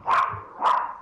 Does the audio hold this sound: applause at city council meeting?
no